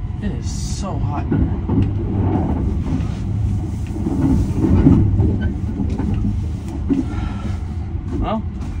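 A Japanese sleeper train rolls along the rails with a steady low rumble and faint clatter from inside the carriage, while people talk quietly throughout.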